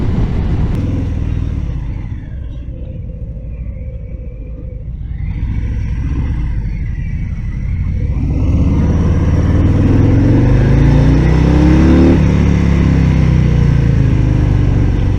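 A Harley-Davidson Breakout 114 motorcycle engine rumbles loudly and steadily up close, its deep, rough idle swelling into revs that rise and fall.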